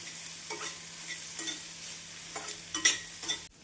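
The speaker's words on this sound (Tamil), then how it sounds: "வெங்காயத்தை மீடியம் ஃப்ளேமில் நன்றாக வதக்க வேண்டும்." Chopped onions and green chillies sauté in a pan over a medium flame for a Tamil coconut milk sothi, with a soft continuous sizzle and a few scraping stirs, quiet and close, with no talking.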